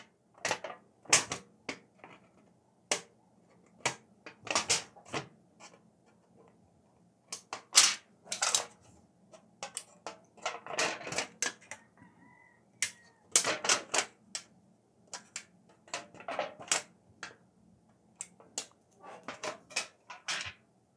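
Snips bite into the edge of an aluminium sheet to form a small bevel, giving sparse, irregular sharp clicks and crunches with quiet pauses between cuts.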